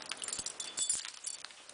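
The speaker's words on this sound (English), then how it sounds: "Some keys. That's my house key, car key." Keys on a Domino's keychain, including a house key and a car key, jangle in a few light, close metallic rattles over roughly two seconds, with no talking.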